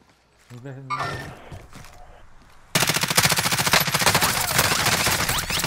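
Enemy gunfire in Call of Duty: Modern Warfare, rapid automatic bursts that start abruptly and continue loud and dense, after a shouted voice at the start.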